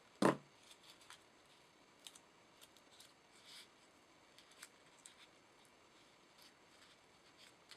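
Scissors snip paper while shaping a small paper witch's hat, one sharp close cut at the start followed by faint, sparse snips and rustles in a quiet room.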